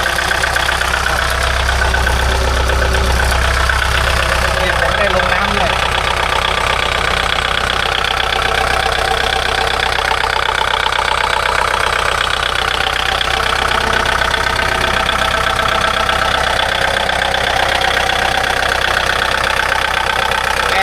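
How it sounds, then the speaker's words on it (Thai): A Kubota L4708 tractor's four-cylinder diesel engine idles close by, producing a loud, steady low rumble with a fine rapid knock that never changes pitch, with no talk over it. "เครื่องยนต์4สูบคูโบต้า"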